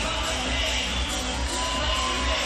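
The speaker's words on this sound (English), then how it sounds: "the crowd here in Dublin absolutely ecstatic for that one" Arena crowd in Dublin roaring and cheering at the finish of a Cage Warriors mixed martial arts fight, a dense, sustained wall of noise with shouts and whoops, loud and steady throughout.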